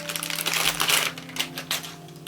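Plastic bag packaging around a set of guitar straps crinkles and crackles in close, irregular bursts, loudest in the middle of the handling, with a faint steady hum underneath.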